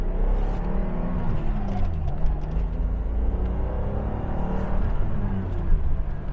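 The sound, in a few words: BMW car accelerating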